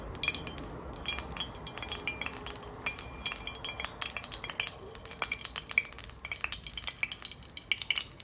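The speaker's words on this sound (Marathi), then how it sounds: "कढई गरम झाली, आपण तेल टाकूयात." Oil sizzles steadily in a hot kadhai while a utensil stirs and scrapes, with frequent light metallic clinks throughout, close and continuous.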